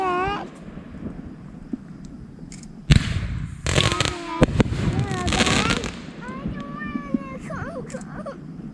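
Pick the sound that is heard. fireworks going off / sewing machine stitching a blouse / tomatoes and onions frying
fireworks going off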